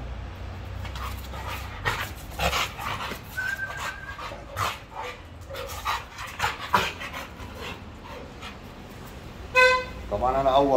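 A pit bull guard dog pants and whimpers close by over several seconds. Someone talks over it and a car horn toots near the end.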